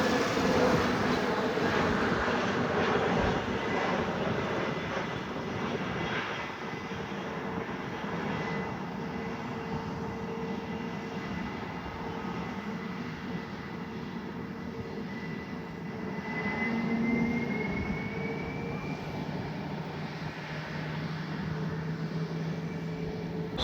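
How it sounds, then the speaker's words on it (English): An Air India Boeing 777-300ER jet at Delhi Airport gives off a steady, distant engine roar and whine, holding fairly level for the whole stretch with a slight swell partway through. "that's the 777-300 ER of Air India, which is now ready to go to Mumbai"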